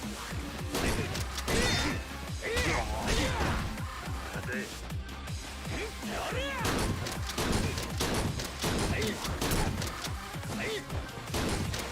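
Shotgun fire in the video game Yakuza 0: a dense, near-continuous barrage of loud, sharp blasts and crashing impacts across the whole stretch, with shouting voices mixed in among the bangs.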